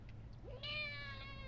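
A cat meows once, a rising call that holds steady for about a second, close and clear over a low constant hum.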